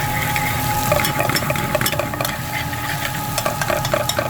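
Garlic sautéing in a pan, close busy sizzling broken by clicks and scrapes of stirring, loud and continuous for a few seconds.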